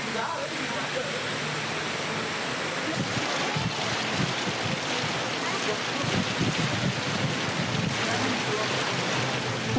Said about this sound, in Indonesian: Hujan deras disertai angin kencang dan petir melanda seluruh wilayah di Kabupaten Maros, Sulawesi Selatan.